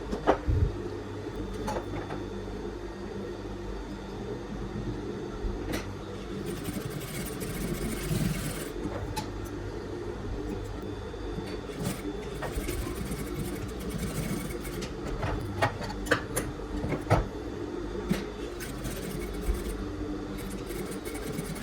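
A sewing machine stitches short side seams on children's lazy pants with a steady mechanical whir and faint rattling ticks, running close and low in level for most of the stretch.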